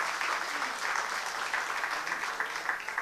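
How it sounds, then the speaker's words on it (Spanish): A church congregation applauds steadily, many hands clapping together in a full, sustained wash of sound that carries on for several seconds. "Démosle un aplauso al Señor y vamos a terminar."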